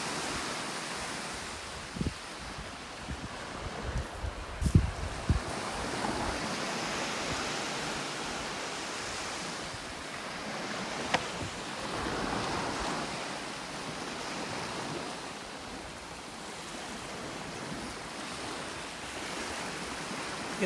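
Ocean waves and surf near the Similan Islands in Thailand, a continuous wash of water with occasional nearby knocks and splashes, sustained for about twenty seconds with no speech.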